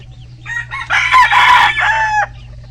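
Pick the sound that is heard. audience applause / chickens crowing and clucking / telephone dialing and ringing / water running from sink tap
chickens crowing and clucking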